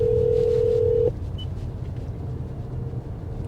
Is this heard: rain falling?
no